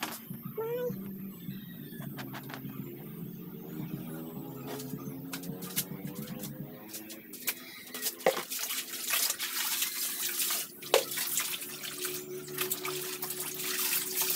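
Laundry is washed by hand in running water in a rural Philippine home, with water trickling and splashing, intermittent sloshing and clatter, moderately close, with some talk in the background.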